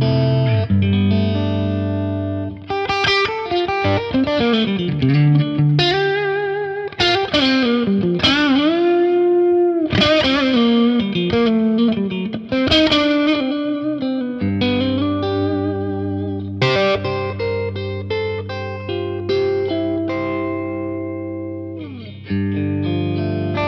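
Electric guitar through a Thorpy FX Dane overdrive pedal plays loud, lightly driven bluesy licks and chords, with bends and sustained notes and short pauses between phrases, alone with no talk.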